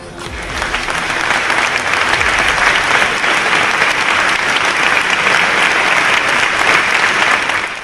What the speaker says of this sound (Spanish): Bergoglio aplaudiendo las palabras de su amigo judío